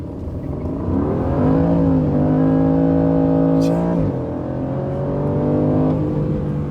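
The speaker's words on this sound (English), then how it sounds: "listen to the engine roar as we go down the road" A car engine roars steadily while driving down the road, a close, loud droning hum whose pitch rises and dips as the revs shift, with a brief high whir partway through and no talk.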